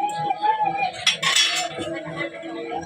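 Metal spoon stirring string beans (sitaw) in a cooking pot, with clinks and scrapes against the pot, fairly close and clear.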